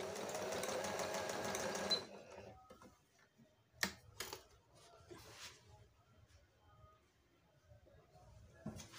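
A Singer 5600 sewing machine runs an overlock stitch in a dense, steady mechanical whir for about two seconds, then stops, leaving only faint scattered clicks and handling noises.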